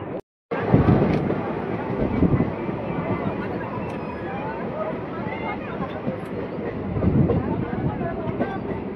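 A passenger train runs along a small rural rail line near Bardhaman, heard from inside a crowded carriage as a continuous loud rumble and rattle with wind buffeting and muffled background voices.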